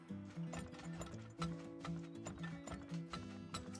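Cartoonish horses in the video game Turmoil give rhythmic clip-clop hoofbeats with an occasional whinny, quiet and steady as they are placed on the field.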